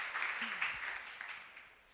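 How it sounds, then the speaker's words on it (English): An audience bursts into applause at a beverage competition semi-final, a brief spread of clapping that swells and then fades out over a couple of seconds, heard from a distance. "you can clap for that"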